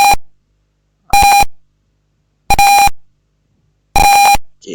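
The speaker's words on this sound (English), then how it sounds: "the buzzer will make two kind of sound" An Arduino temperature detector's buzzer sounds four sharp, loud electronic beeps at an even pace, each pulse short and separated by silence.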